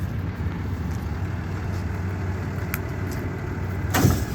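The engine of a Metro Tow Trucks FB-15 tow truck idles steadily with a low droning rumble while the lift raises a vehicle. A brief louder clank comes near the end.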